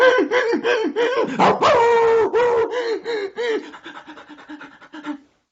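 A storyteller's voice imitates an old dog whimpering, close and loud, with a string of whiny, panting yelps and gasps that rise and fall before trailing off.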